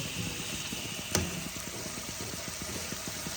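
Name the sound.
lukewarm water poured into cooking spices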